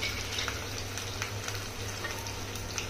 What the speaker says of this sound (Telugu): ఇదిగోండి ఎల్లుల్లిపాయలు తాలింపు అంటాను కదండి